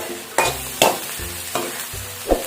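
Tamarind tipped into a pan for a thoothuvalai (Solanum trilobatum) pickle, giving several distinct stirring scrapes and soft thuds at a steady pace, with a light sizzle beneath and no voices.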